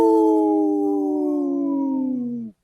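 A wolf gives a single long, loud howl that holds a steady, clear tone, slowly slides lower and then cuts off abruptly, heard alone with no voices.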